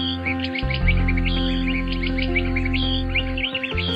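Birds chirping and calling at Kuala Lumpur Bird Park, repeated bright tweets layered over a steady low hum, fairly close and continuous.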